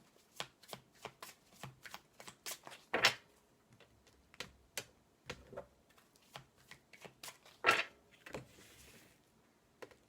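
Oracle cards shuffled by hand during a tarot-style reading, a quick run of crisp riffling flicks with two louder slaps near the middle and end, close and fairly quiet with no talking.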